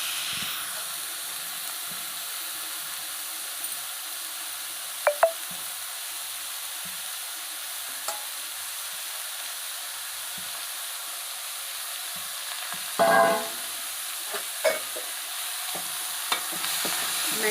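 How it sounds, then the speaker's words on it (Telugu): Grated beetroot cooks in ghee for halwa as a steady, hissing sizzle that runs throughout. A few isolated clinks and one brief scrape of stirring cut through it. "ఇప్పుడు ఈ బీట్రూట్ తురుమంతా ఈ నెయ్యిలో వేసేయాలండి"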